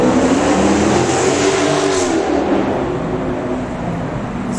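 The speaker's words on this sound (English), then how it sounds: "So you heard that roaring engine" A Ford Mustang muscle car roars past on a street in Minsk, its loud engine rumble and rev close at first, then gradually fading as it moves away.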